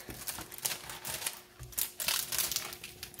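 Thick transparent plastic film from a diamond painting kit crinkles and crackles in irregular bursts as it is handled close by, with no talking.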